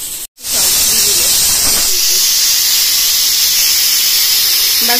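A pressure cooker on a home kitchen stove lets out a loud, sustained steam whistle and hiss after a brief click, holding steady and close for several seconds.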